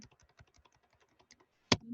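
Computer keyboard keys clicking in quick, uneven bursts as code is typed for a C and C++ programming class, close and fairly quiet, ending in a louder thump.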